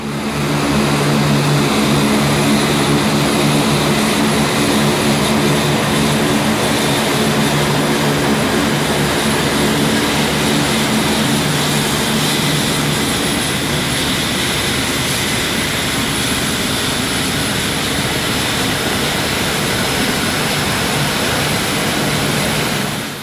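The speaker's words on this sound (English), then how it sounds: "We have a fighter jet getting set to take off" Loud, constant military fighter jet engine roar with a droning propeller-like hum at Thunder Bay International Airport, holding steady and close for over twenty seconds with no voices.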